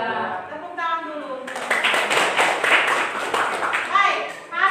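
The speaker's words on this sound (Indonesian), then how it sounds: "Tepuk tangan dulu" A classroom group claps together in a burst of dense hand claps after a chemistry lesson exchange, with a voice speaking at the start and end of the burst.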